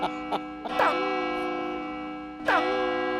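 On a comedy TV show, a clock chimes with a ringing bell-like tone. A few sharp strikes sound over a sustained resonant hum, and a sliding tone fits a staged comedy effect.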